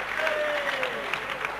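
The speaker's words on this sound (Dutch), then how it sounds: "Kom maar, een beetje applaus" Crowd at a 1987 strongman contest in Friesland gives brief, moderate clapping, with a voice briefly audible through the short burst.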